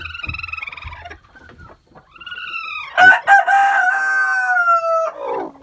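Chickens cluck and a rooster crows on a morning farm, a few short clucks followed by a long, loud cock-a-doodle-doo close by, with no talk.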